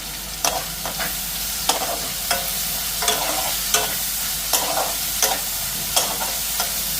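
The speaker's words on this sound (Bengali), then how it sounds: "পেঁয়াজ ভাজা হয়ে গেছে" Sliced onions and green chillies fry in a pan with a loud, constant sizzle, broken by regular sharp scrapes of a spatula stirring them, close and without speech.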